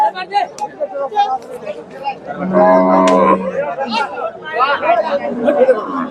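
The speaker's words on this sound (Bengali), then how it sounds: "প্রচুর গাভী আছে হাটে" Cows mooing at a busy cattle market, one long, loud low moo rising over a steady babble of crowd chatter and nearby voices.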